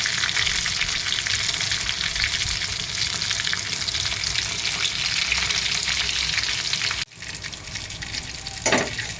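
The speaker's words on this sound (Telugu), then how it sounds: "10 నిమిషాల నుండి వేగుతున్నాయండి లెగ్ పీసులు" Chicken leg pieces frying in hot oil, a dense steady sizzle and crackle filling the scene, near and loud, dropping abruptly near the end then resuming with a brief clatter.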